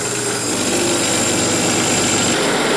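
A milling machine cutting a knife blank with an end mill, throwing chips: a loud, continuous grinding whine with a steady rumble underneath, heard close and alone throughout.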